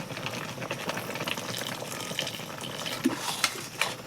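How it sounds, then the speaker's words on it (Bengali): Raw mango pickle with turmeric, Kashmiri chili powder, salt and a little vinegar being gently stirred, soft wet squelching and scraping with a few sharper clinks, close and continuous. "হালকা হাতে নেড়ে চেড়ে মিশিয়ে নেব।"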